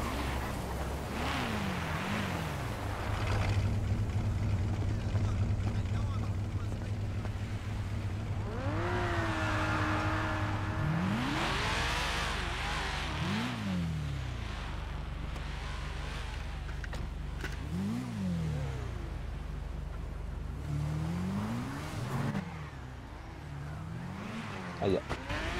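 A car in a video game revs and accelerates, its engine pitch sweeping up and down through repeated gear changes over about twenty-five seconds, with players talking throughout.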